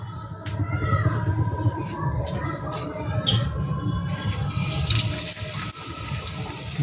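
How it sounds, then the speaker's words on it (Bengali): Rolled samosas sizzle and bubble in hot oil, a loud, continuous frying hiss up close with crackling that brightens midway, and no speech over it. "তেলটা কিন্তু এদিকে গরম হয়ে গেছে এবার আমি এক এক করে ভেজে নেব"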